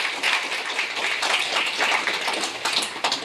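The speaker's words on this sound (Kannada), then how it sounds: "ಚಪ್ಪಾಳೆ ಬರಬೇಕಲ್ಲ" A hall audience applauds at a commemoration gathering, a dense, steady patter of many hands clapping for a few seconds, fairly loud and without talk over it.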